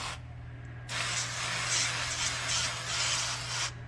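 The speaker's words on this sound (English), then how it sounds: "I thought it would come out in a little bit more of a spray, like a wide spray pattern." Fluid Film black undercoating sprays from an aerosol onto a Ram 3500 in one continuous hissing burst of about three seconds, close, starting and stopping abruptly over a low background hum.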